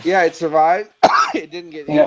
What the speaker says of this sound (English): I'm coughing already because it was near me